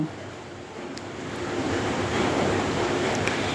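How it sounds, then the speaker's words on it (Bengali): Fish heads frying in oil in a wok over a high gas flame, a steady, close broadband sizzle that swells and grows louder over a few seconds, with no voices. "কড়াইয়ের মধ্যে দিয়ে দিয়েছি তেল এবার মাছের মাথাগুলো সবগুলো ভেজে নেব"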